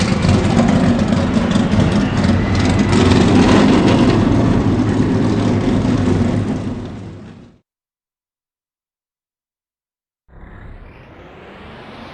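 Race car engines in the NR2003 racing game, a loud dense roar of many motors running together for several seconds, cutting to silence, then a fainter engine drone returning.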